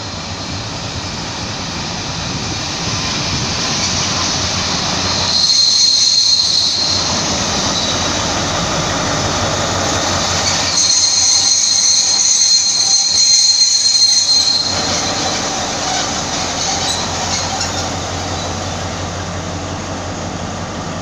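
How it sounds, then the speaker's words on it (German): A BR218 diesel locomotive shunting onto a train at Ulm station, heard as a loud, steady rumble under the station roof, with high wheel squeals rising twice over the noise. "Da die Strecke von Ulm nach Aulendorf nicht elektrifiziert ist, rangiert hier nun diese BR218 an den Zug."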